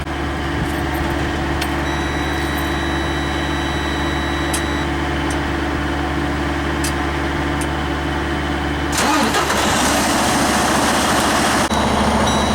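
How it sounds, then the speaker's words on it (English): A truck's engine is started during a pretrip inspection: a steady mechanical hum runs for several seconds, then the engine catches and the noise thickens into a louder, rougher idle. "Now you can start your truck,"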